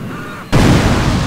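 A bazooka fires in GTA San Andreas, a sudden loud blast cutting in halfway and then a sustained roaring rush that carries on to the end.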